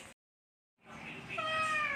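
After a brief silence, a cat lets out a single drawn-out, rising meow, close and fairly faint.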